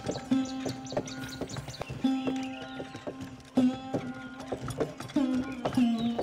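A bullock cart rolls along a village dirt road in an animated scene, giving a steady, rhythmic clopping of hooves with a recurring tonal jingle that repeats in close cycles.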